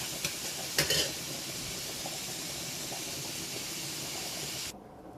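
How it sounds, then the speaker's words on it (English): Chopped onions sauté in a hot pan with a steady, even sizzle, broken early by a brief clatter of stirring before the sizzle cuts off near the end. "I'm going to just stir these around for a couple of minutes until my onions soften"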